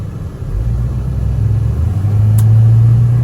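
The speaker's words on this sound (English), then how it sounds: "we are test driving the 72 Pontiac Grand Prix" A 1972 Pontiac Grand Prix Model J drives with a steady, loud low engine rumble from inside the car. The drone swells slightly toward the end, with no talking.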